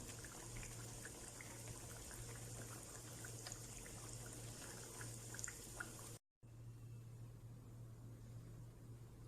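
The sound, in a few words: poori frying in hot oil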